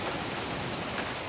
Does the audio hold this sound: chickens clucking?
no